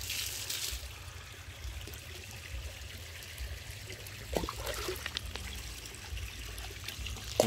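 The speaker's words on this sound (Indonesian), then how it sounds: "Semua kita siram menggunakan air kolam." Pond water trickling and pouring onto garden plants such as chili and flowering plants, a steady low watery wash with a few brief splashes near the end, no talking.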